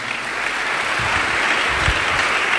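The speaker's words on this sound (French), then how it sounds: "Acclamons la parole du Seigneur." A church congregation claps together in sustained, dense applause that fills the room steadily from start to finish, with no talking.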